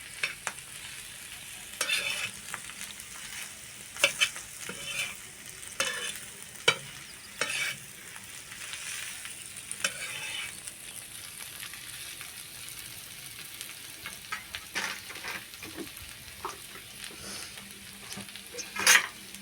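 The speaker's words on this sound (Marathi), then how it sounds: "अशाच प्रकारे हळूहळू असे आपल्याला हलवीत राहायचे आहे म्हणजे आपले मसाले बटाट्यामध्ये व्यवस्थित असे भिंतील" Potato chutney with spices being stirred and fried in a pan, a steady sizzle running throughout with repeated scraping and clinking strokes of the spoon, close and fairly quiet.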